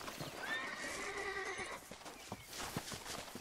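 Horse in Red Dead Redemption lets out a loud whinny near the start, followed by a series of clip-clopping hoof steps at close range.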